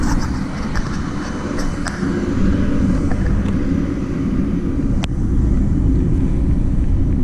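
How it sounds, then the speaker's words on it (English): A fan runs steadily at the back of a car repair shop, giving a loud, constant broadband whoosh with a low rumble and a few faint clicks, and no voices over it. "Sorry for that fan noise."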